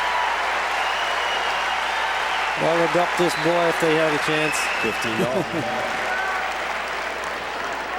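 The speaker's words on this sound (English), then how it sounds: "Listen to the crowd." Tennis crowd at the US Open applauding and cheering in a steady broad wash throughout, with a commentator talking over the middle of the roar.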